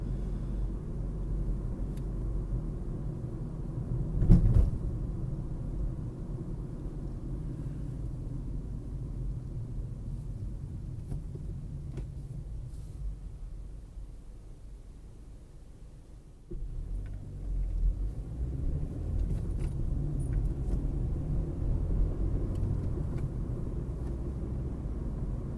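A car drives through New Orleans city streets, heard from inside as a steady low engine and road rumble with a brief louder bump early on and a slight dip before the rumble picks up again.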